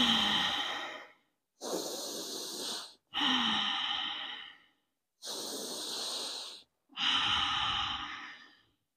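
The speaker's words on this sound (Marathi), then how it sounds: "खाली असं लंबा श्वास घ्यायचा आहे" Long, deep yoga breaths drawn and released slowly through the nose in five separate strokes with brief pauses between, close to the microphone and alone, without talk.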